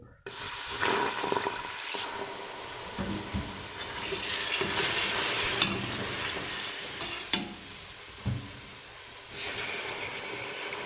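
Roux of flour being stirred and toasted in a pan for béchamel sauce, a continuous sizzling and scraping from close by with brief spoon clinks and shifts in intensity.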